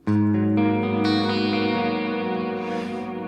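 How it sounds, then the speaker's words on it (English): A single strummed chord on a clean electric guitar, followed by a few added notes, ringing out and decaying gradually without distortion. "this clean guitar sound is actually the bypass of everything"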